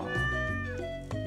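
A cat in Stardew Valley gives one drawn-out, tonal meow that lasts over a second, loud and alone.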